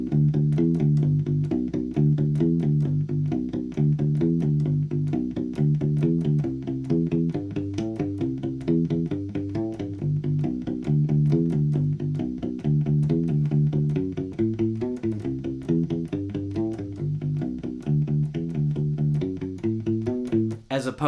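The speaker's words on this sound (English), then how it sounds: "if we do the exact same bass line that we just did without the shuffle feel, it sounds like this" An electric U-bass plays a steady, straight rock line of repeated low notes in even rhythm, without a shuffle feel, clear and upfront throughout with no voices.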